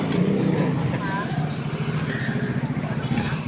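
Buses rumble past on a hot roadside near a jeepney stop, a low engine drone with a brief air-brake hiss, heard under nearby chatter and outdoor crowd noise.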